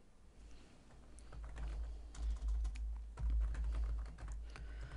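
Computer keyboard keys being typed to enter a query name in a database program, a steady patter of close, crisp clicks with no talk.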